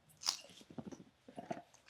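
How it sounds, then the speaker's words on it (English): Crisp bites into a crunchy homemade pickle, one sharp crunch followed by a run of close, wet chewing with a second burst of crunching partway through, with no talking. "That is crisp. It's got a nice crunch to it."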